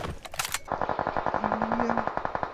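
Rapid automatic gunfire in the video game BGMI rattles in a fast, even burst after a couple of sharper shots, close and loud.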